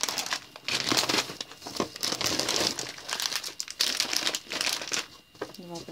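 Plastic packaging crinkles and crackles almost nonstop while an AliExpress parcel of berries is unpacked, loud and close, in dense bursts with brief pauses.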